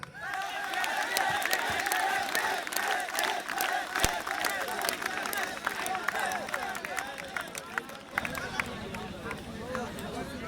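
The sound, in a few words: crowd clapping and calling out a name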